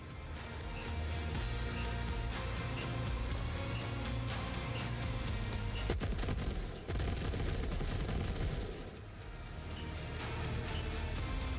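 Gunfire from low-velocity guns in the video game The Forever Winter, sustained rattling bursts layered over a thick, constant battlefield roar, with a sharp crack and brief lull midway before firing resumes.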